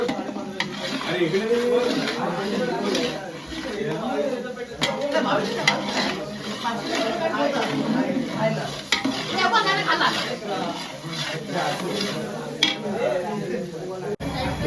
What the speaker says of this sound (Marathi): आपण बारीक केलेली मिरची टाकतोय त्यानंतर याच्यामध्ये टाकतोय आपण बारीक केलेलं आलं टाकतोय